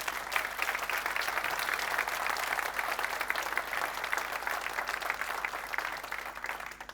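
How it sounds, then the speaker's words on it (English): A conference audience at a corporate sustainability day claps for an attendee, a soft, even wash of many hands heard from some distance, holding steady for about seven seconds before tapering slightly. "give an applause to Erik here"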